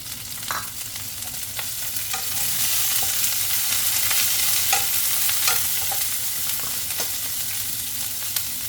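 Kale being stir-fried in a hot pan with golden garlic for shrimp fried rice, a continuous loud sizzle with intermittent scraping and clinks of the spatula stirring throughout.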